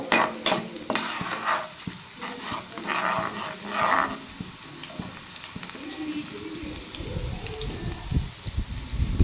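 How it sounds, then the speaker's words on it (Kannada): Crushed ginger and garlic fry in hot oil for a home cooking session, giving a steady crackling sizzle with scattered stirring scrapes close by and no talk. "ಎಣ್ಣೆ ಸ್ವಲ್ಪ ಬಿಸಿ ಆದಮೇಲೆ ಶುಂಠಿ ಮತ್ತು ಬೆಳ್ಳುಳ್ಳಿನ ಚಚ್ಕೊಂಡಿರೋದನ್ನ ಹಾಕ್ಕೊಂಡು ಸ್ವಲ್ಪ ಹಸಿ ಸ್ಮೆಲ್ ಹೋಗೋ ತನಕ ಫ್ರೈ ಮಾಡ್ಕೊಳ್ಬೇಕು"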